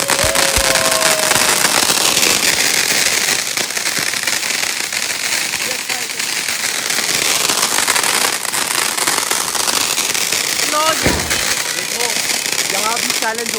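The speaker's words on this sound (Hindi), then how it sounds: "साइड वालों के पटाखों में रंग थे, हमारे पटाखों में रंग नहीं थे" Firecrackers going off at a family Diwali celebration outdoors, a dense stream of crackling bursts and sharp pops throughout, with people talking and shouting over the noise.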